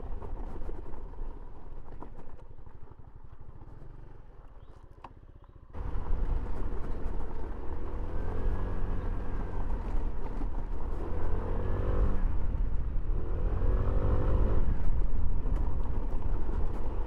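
A Hero Xoom 160 scooter rides offroad, its small engine droning steadily and close at hand, with rougher wind and rumble growing louder after the first few seconds.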